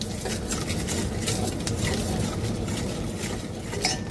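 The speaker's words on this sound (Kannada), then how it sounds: "ಈಗ ಸಾಸಿವೆ ಚಿಟುಗುಡ್ತಾ ಇದೆ." Mustard seeds crackle and spit in melted butter in a pan, a dense busy sizzle with scattered sharp pops and occasional clinks, close and continuous with no speech.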